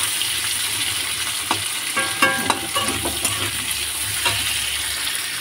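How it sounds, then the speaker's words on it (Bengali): Onions frying in oil in a pan at home, a steady close sizzle with occasional stirring clatter from a utensil. "পেঁয়াজটা লাল করে ভেজে নিচ্ছি।"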